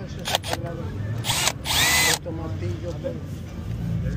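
A Milwaukee power drill at a street market gives several short whirring bursts of varying length, close by, amid market chatter and background noise.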